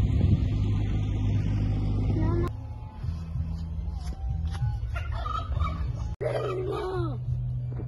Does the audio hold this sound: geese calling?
yes